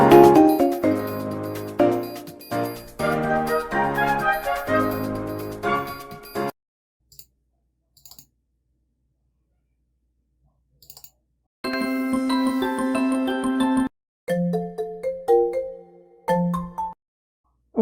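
Default ringtones and notification sounds on a Huawei Mate2 running Android Lollipop play one after another as bright, melodic chimes, each separated by a brief silence, with no talking.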